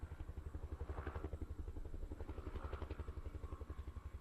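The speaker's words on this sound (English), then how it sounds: "Sounds like a helicopter." A helicopter in the Metal Gear Solid video game sounds as a steady, fast rotor thump with a deep engine drone, loud and continuous throughout, with no voices over it.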